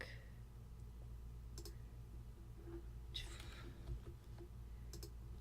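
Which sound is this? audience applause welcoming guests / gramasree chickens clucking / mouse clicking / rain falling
mouse clicking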